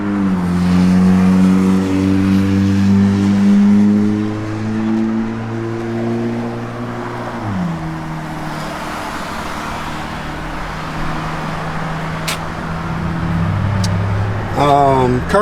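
A 1970 Plymouth Barracuda Gran Coupe idles loudly through its Flowmaster dual exhaust, a deep steady rumble with pitch shifts as the engine settles around the middle, close by, with a brief higher rev burst near the end.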